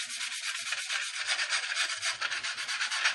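A sanding stick rubs steadily across plastic parts from a 1/32 Trumpeter Corsair model kit, giving a continuous, close, gritty scraping hiss in quick back-and-forth strokes with no voices.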